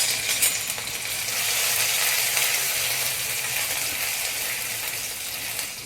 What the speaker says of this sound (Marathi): आता एका कढईमध्ये तेल घ्यायचं आहे थोडं, आणि थोडासा ठेचलेला अद्रक आणि लसूण जवळपास 1 चमचा त्याच्यात घालून घ्यायचा आहे